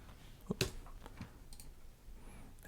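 Keyboard typing at a computer while entering text into a print-on-demand design tool: a quick burst of close, crisp key clicks early on, then a few softer scattered taps over faint room noise.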